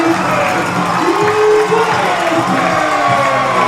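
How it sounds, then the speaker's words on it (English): A loud high school football crowd roars and cheers after a missed field goal at a postseason playoff game, a sustained wash of voices with whoops and shouts rising and falling throughout. "Now you're starting to hear what the crowd noise really can do right now after that missed field goal."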